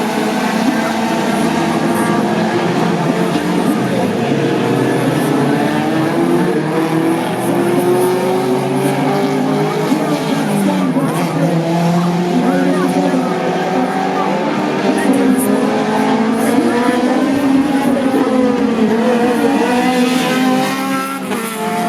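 A Subaru race car laps a track, its engine droning loud and close with rising and falling pitch as it accelerates and shifts, running continuously throughout.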